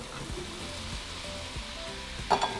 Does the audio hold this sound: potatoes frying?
yes